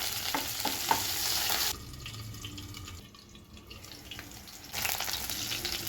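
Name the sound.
green chilli pieces frying in hot oil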